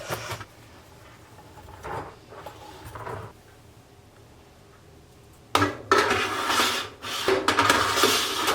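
Knife dicing food on a cutting board in a homestead kitchen, sounding as clusters of sharp close taps and scrapes with quieter pauses between, busier and louder toward the end.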